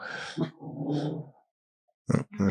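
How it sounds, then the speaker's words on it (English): A dog growls and gives short yips up close, a low rumbling growl followed after a pause by two quick sharp yelps, no talking over it. "There goes the dog, sorry."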